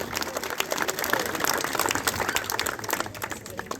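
Audience applause fills a hall at the inauguration of a seniors' friendship club in Pont-à-Mousson, a dense, steady wash of many hands clapping at moderate volume for several seconds with no voices over it.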